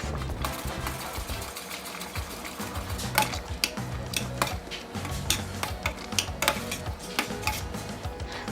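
Potatoes are stirred in a tomato and egg sauce with a steady run of close spoon scrapes and knocks against the pan, in an irregular rhythm over a soft simmering hiss.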